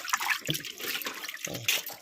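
Water splashes and sloshes in close, irregular bursts as hands wash a large fish in a bucket.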